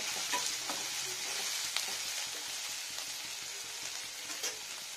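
Garlic fries in oil alongside slit green chillies and chopped tomato, giving a continuous bright sizzle close up with faint scattered crackles and occasional stirring taps, no voices.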